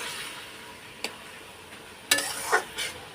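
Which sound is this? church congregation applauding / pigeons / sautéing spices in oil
sautéing spices in oil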